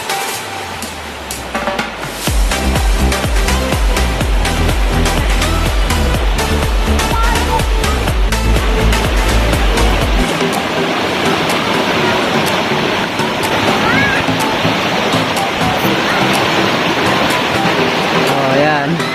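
Floodwater rushes in a strong, steady broadband roar during a flood, loud and continuous throughout, with a low engine-like rumble early on and voices talking over the flow.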